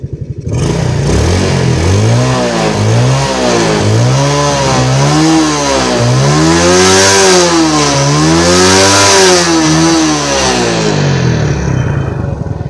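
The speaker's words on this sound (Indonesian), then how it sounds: "Jadi untuk gas sampai mentok sekarang sudah bisa normal kembali, tidak ada berbetnya" A Yamaha Jupiter Z motorcycle engine, recently repaired for sputtering and stalling under throttle, revs hard in a series of rising and falling surges. It climbs to full throttle several times, loud and close, with no voices.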